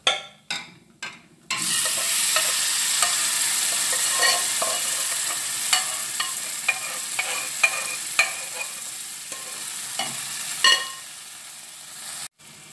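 Mathanga payar erissery, a pumpkin and bean curry, pours into a hot pan and sizzles steadily, with a run of light scraping stirs clicking against the pan over the frying hiss and no talk.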